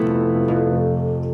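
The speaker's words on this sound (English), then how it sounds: "or open strings flying when you're playing a chord" An acoustic guitar chord rings out with unwanted open strings sounding alongside it, a sustained, bright, buzzing harmonic wash that holds steady throughout and swells again near the end, with no talking.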